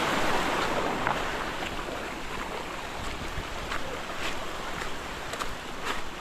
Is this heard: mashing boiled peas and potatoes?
no